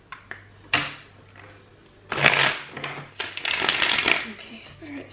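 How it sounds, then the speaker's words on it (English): Tarot cards shuffled by hand, close riffling and rustling bursts with soft taps in between, the longest flurry lasting about two seconds. "And let's just get one more shuffle."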